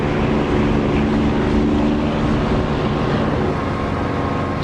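Propeller aircraft engine in the DCS flight simulator game, heard with the canopy closed: a steady, loud, continuous drone with harmonic hum throughout, no talking.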